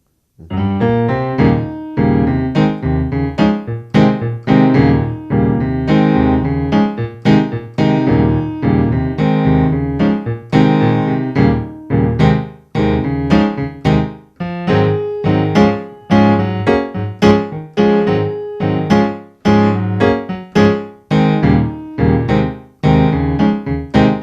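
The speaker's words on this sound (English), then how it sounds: "I would consider to be more of the traditional style of playing gospel piano" Solo piano plays a continuous traditional gospel chord progression of rich, full chords with a steady rhythmic pulse and bass movement, loud and close, no voices.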